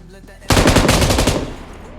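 M249 machine gun firing in the BGMI mobile battle royale game, a loud rapid burst of about eight shots lasting roughly a second, then tailing off into a fading echo, with faint game ambience before the burst.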